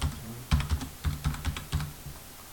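Close clicks of a computer keyboard as a password is typed during Google account sign-up, a quick burst of several keystrokes followed by a short pause and a few more taps.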